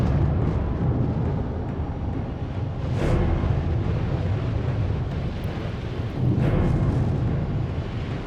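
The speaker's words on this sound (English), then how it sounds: "the booming sounds of the volcano." Anak Krakatoa volcano erupting: a loud, continuous deep rumble with heavy wind-like roar and two broad booming swells, distant but powerful.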